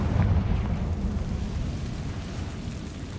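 A deep, rumbling blast from the Confringo fire spell in Hogwarts Legacy, a heavy low boom that rolls out and fades over a few seconds with no voices.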